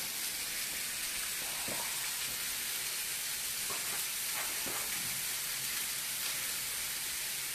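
A pan heats up for eggs, giving a steady, faint hissing sizzle with a few soft knocks scattered through, close and alone without talk.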